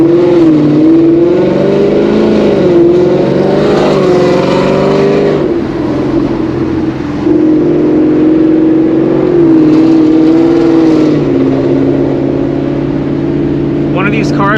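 Straight-piped Ford Mustang S550 driven at night, its engine droning and rising and falling in pitch through revs and shifts, loud and close, with someone talking over it.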